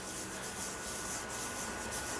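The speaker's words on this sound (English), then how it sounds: "when you're wet sanding, it's like the sandpaper is going over roughness" Steady, continuous rubbing and scraping of wet sandpaper over the surface of a tenor bass being refurbished, even and unbroken throughout, fairly loud and close.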